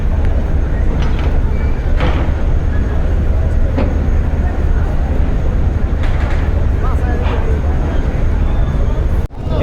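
Sundarban 16 passenger launch engine running in reverse gear at Barisal launch ghat at night, a loud continuous low diesel rumble with a dense, noisy mix of crowd and dockside sounds, ending abruptly.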